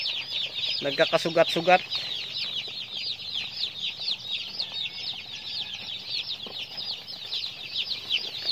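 Broiler chickens and chicks on a farm cluck and cheep in a dense, continuous chorus, with a brief burst of wing flapping early on; someone speaks quietly over the birds.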